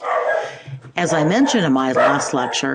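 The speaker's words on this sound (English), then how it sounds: "pardon the barking dogs" Dogs bark and yip in the background while a man lectures, the barks partly masked under his steady voice.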